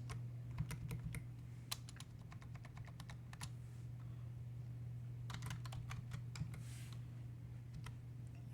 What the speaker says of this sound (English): Hopefully I'm not messing it up when I'm typing this.